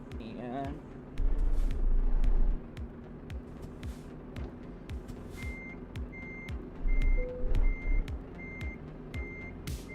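Truck reversing alarm in the Euro Truck Simulator 2 game, a steady series of regular high beeps repeating over a low engine rumble during parking, with someone talking intermittently.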